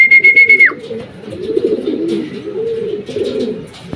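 A racing pigeon coos repeatedly on arriving at the loft after training, with soft rolling coos close by, preceded by a brief whistle-like tone.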